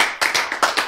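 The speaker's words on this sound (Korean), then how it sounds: "박수." An audience claps at a church lecture, a quick burst of about five sharp, close hand claps in a short, uneven rhythm, with no talk.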